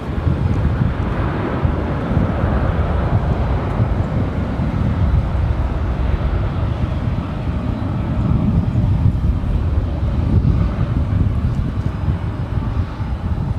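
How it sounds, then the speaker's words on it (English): An American Airlines Boeing 737 taking off on runway 18 left at Dallas Fort Worth International Airport, a loud sustained low jet roar mixed with wind buffeting on the microphone, steady throughout. "American 737 taking off on"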